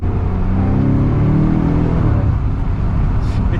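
A 2023 BMW M5 Competition accelerates hard through a third-gear roll-on, its engine a loud, close, rising drone that climbs in pitch for about two seconds before easing slightly.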